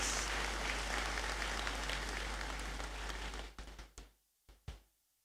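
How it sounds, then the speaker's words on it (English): A large hall audience at a graduation congregation ceremony gives a round of applause for Joyce, a dense sustained clapping that thins out and ends with a few last scattered claps. "Another round of applause for Joyce"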